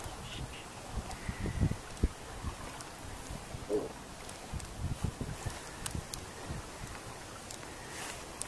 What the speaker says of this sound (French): Oh ben là, on a le vent qui a forci